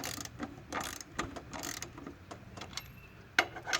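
A Stanley extendable flex head ratchet, model STMT72418, clicking in short bursts of dry, fairly coarse ticks from its low tooth count pawl, close up with no talking.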